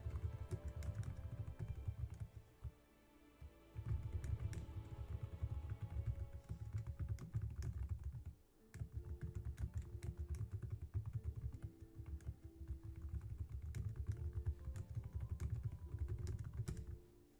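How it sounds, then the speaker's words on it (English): Steady, continuous typing on a computer keyboard during a tabletop role-playing session, with rapid close key clicks running almost without pause, one brief lull near the start and another midway, and no talk over it. "Sorry, I'm just typing this out."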